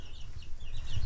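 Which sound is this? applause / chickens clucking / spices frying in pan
chickens clucking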